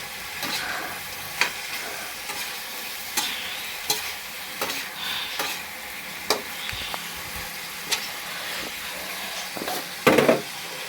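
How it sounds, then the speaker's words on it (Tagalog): Pork adobo being stirred in a frying pan, with a steady sizzle and repeated scraping clinks of the utensil against the pan, close and moderately loud. "Haluin natin siya guys."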